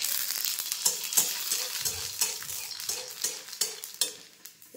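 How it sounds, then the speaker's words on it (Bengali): Ready-made papad puchkas fry in hot oil with a steady bright sizzle, while a utensil stirs and taps the pan in regular rhythmic knocks up close. "কয়েকটা ফুচকা ভেজে তুলে নিচ্ছি।"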